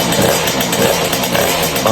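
A Sherco motorcycle engine runs right after its first successful start following repair, a steady loud close-up idle with a rapid pulsing beat and mechanical clatter.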